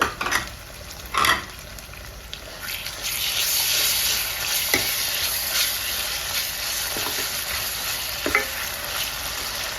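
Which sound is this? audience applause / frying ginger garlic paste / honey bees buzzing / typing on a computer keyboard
frying ginger garlic paste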